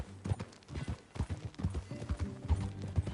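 Horse hooves clip-clop in a rapid, uneven gallop in the Red Dead Redemption 2 video game, close and prominent, with soft game sounds underneath.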